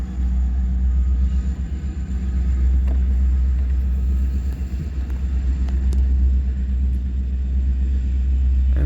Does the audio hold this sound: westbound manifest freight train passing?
yes